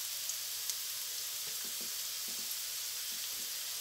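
Ingredients sauté in a pan for mussels in tomato sauce, giving a soft, steady sizzling hiss with a few faint clinks, quiet and close, with no talking.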